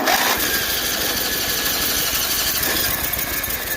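The starter on a 1984 Agway 1842 lawn tractor built by Murray cranks the engine in a steady, close, grinding whir that runs without a break.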